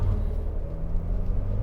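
Jeep Renegade 1.8 flex engine held at high revs in a transmission stall test, a steady low rumbling drone close by with no speech.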